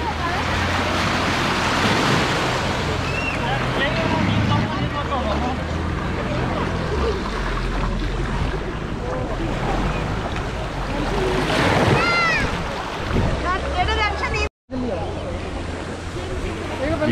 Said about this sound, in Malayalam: ഇതാണ് ബോട്ടിങ്ങിനുള്ള ബോട്ട്.